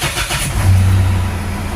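Mitsubishi Montero Sport engine cranking and catching after a fuel filter change, a short rough start that settles into a steady low idle hum, close and fairly loud.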